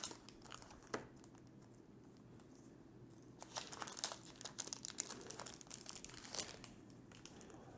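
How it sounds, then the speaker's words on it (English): Amazon Fire TV Stick 4K being unwrapped from its packaging: scattered crinkling and crumpling of wrapping at close range, with a few sharper rustles early on and denser crackling bursts through the second half, no talking. "the first thing we will take out is the Fire TV Stick. We'll unwrap it."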